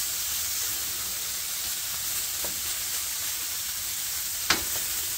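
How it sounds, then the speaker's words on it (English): Pork cutlets for a Portuguese bifana sizzle steadily in a pan with marinade, a continuous bright hiss with a few soft clinks and one sharper utensil tap near the end, no voices. "And then we're going to add our pork cutlets back to the pan."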